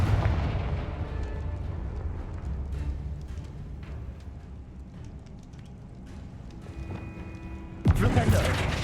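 Loud booming fire blasts from the Confringo spell in Hogwarts Legacy rumble through a cave, with dense low crackling and a sharp new burst near the end.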